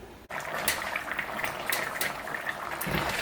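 Coconut curry papaya simmering in a covered pot on the stove, giving off a steady, fairly loud bubbling hiss that runs unbroken from start to finish, with no voices.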